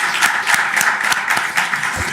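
Audience applause at a law student association's Martin Luther King Jr. commemoration, a dense steady patter of clapping hands filling the room for about two seconds with no talk.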